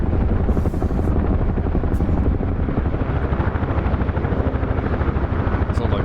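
Helicopter in the DCS flight simulator game, a steady loud rotor thump and turbine whine running continuously throughout, close and unbroken.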